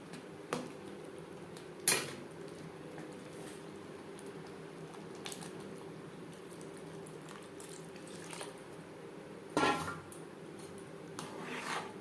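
Spoon stirring a pot of simmering khichuri made with Gobindo bhog rice and mung dal, with a couple of sharp scraping bursts over a steady low bubbling hum.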